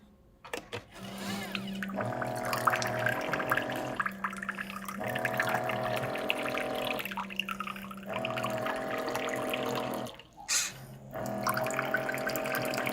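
Water pours steadily from a dispenser into a cup in several long runs with short pauses between them, the pitch shifting as it fills, set against quiet background noise.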